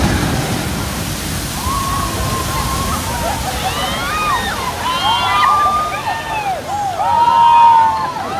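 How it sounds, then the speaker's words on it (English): A boat plunges into water on the Jurassic Park River Adventure ride at Islands of Adventure, sending up a broad, rushing splash and sloshing spray that swells toward the end, with voices in the crowd. "Quite a splash."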